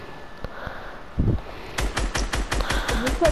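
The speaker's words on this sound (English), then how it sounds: "Look at you shooting me down" Rapid automatic gunfire bursts erupt in a video game 1v1 against a bot, a loud, close string of evenly spaced shots following a few scattered earlier pops.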